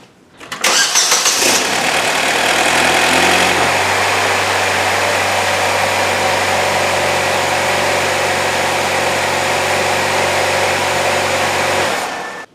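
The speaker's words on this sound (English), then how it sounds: "So then I start her up, let her run 10 seconds" A 2.0-litre four-cylinder Ecotec engine in a Saab 9-3 cranks and catches, revs briefly, then settles into a steady, close idle for about ten seconds before shutting off.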